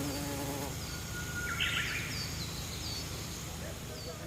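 Honeybees buzz around an opened hive at a beekeeping site in Jos, a faint steady drone with brief passing whines of individual bees, under low talk.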